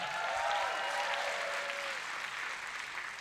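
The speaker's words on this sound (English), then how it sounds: "Let's give a round of applause for that." An audience applauds steadily at a storytelling event, a dense wash of clapping that holds at an even level throughout without any voices standing out.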